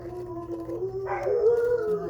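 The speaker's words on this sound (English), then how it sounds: "I'm gonna pause it until these dogs are done barking." Dogs howling and barking nearby at home, a sustained wavering howl that swells into a louder, rising cry.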